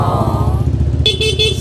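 A motorcycle engine turning over and catching, a steady low rumbling idle with a brief higher tone near the end, loud and close throughout.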